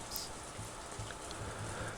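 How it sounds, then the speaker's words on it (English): Endless rain falls steadily in the Golden Land in the video game Umineko, a dense, even hiss of droplets with no pauses, close and enveloping. "the endless rain continued to fall."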